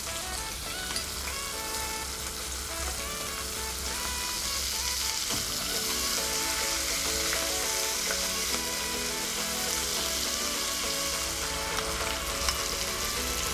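Ginger garlic paste and fresh chili frying in a pan for salmon teriyaki, a continuous bright sizzle with light stirring, steady and close throughout with no talk.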